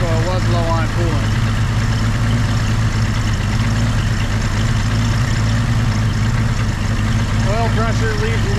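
An old engine idles steadily with its choke set, a deep continuous rumble with a low, even pulse, close and loud, while voices talk faintly in the background.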